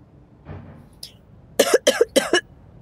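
Three sharp, close coughs in quick succession from an ailing mother in a narrated Filipino horror tale, preceded by a faint breathy stir and a small click in a quiet room.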